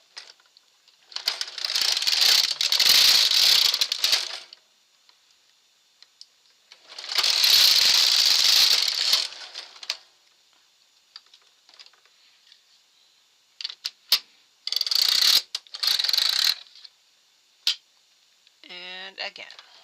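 A knitting machine working drive lace, with repeated loud rattling, whirring passes of the carriage, each lasting a few seconds, plus a few shorter bursts and sharp clicks between them, close and clear.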